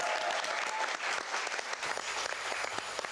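A studio audience on a Mel and Sue comedy show breaks into brisk, dense applause that stays strong and even for the whole stretch, with no talking.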